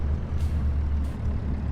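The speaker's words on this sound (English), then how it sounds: "Make sure to apply my brakes when I need to." Truck air brakes hiss twice in short bursts over a low, steady diesel engine rumble in the video game Farming Simulator 25, with no talk.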